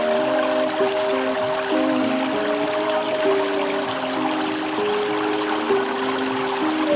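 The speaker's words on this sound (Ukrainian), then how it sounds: "і шумом води, який несе вам океан." Ocean water rushes steadily and continuously, with soft sustained musical tones drifting underneath.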